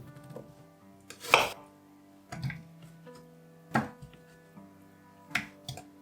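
A knife chops red peppers on a board in four or five sharp, separate knocks spaced about a second apart, set against soft background music.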